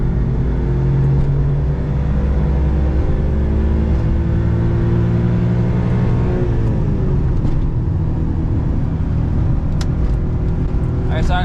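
A Mitsubishi Bravo kei van's engine drones loud and close from inside the cab on bumpy New York roads, a steady low rumble with shifting pitch as it accelerates and eases off, with a few faint rattles.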